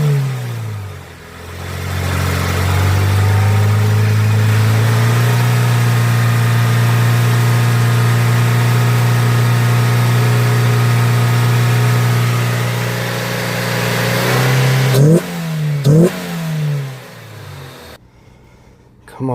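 A 2010 Scion xB (Toyota) engine cranks and catches, then idles and revs steadily for about fifteen seconds after a new alternator install. The engine runs loud and near, shifts in pitch near the end, then cuts off.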